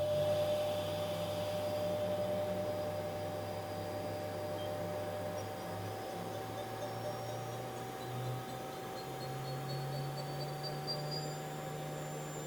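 A 2007 Mori Seiki NT-4300 DCG multi-axis CNC turning center with its spindle running at 6,000 RPM, a steady whine with sustained tonal hum and a rising pitch drifting through, even and continuous.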